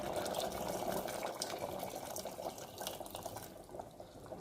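Hot water pours into a pot of Bihari-style Champaran mutton curry, a steady close liquid rush and splash that runs throughout and eases slightly near the end, with no talking.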